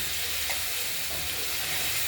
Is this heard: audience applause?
no